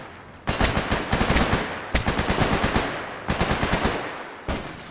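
Automatic gunfire in the video game STALKER GAMMA (Anomaly), loud and close, arriving in four rapid bursts of shots separated by short pauses.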